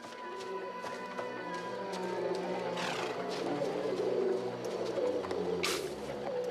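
Pigeons coo in a quiet outdoor scene, soft repeated low calls under faint background noise, with a couple of brief rustling bursts and no clear talking.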